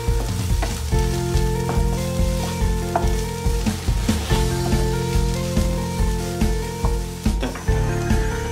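Masala with turmeric for veggie masala Maggi sizzles in a pan while a spoon stirs it in a quick, regular rhythm of scraping taps. It sounds close up, with no talking.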